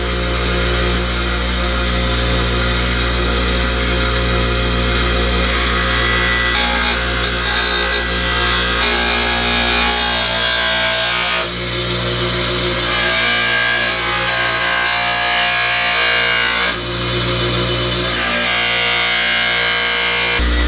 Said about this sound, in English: done with the grinding